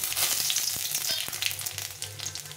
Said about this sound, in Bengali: প্রথমে একটু কড়াটা গরম করে নিয়ে আমি এখানে কালো জিরে নিয়েছি 1 চামচ মতো, এটা দিয়ে দেব